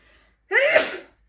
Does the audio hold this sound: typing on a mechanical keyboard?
no